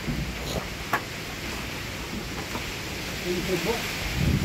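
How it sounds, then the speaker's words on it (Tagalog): Strong wind buffets the microphone outdoors in the rain in a steady roar, with rain hiss and scattered thumps, close and loud throughout. "Grabe, ang lakas ang hangin ko."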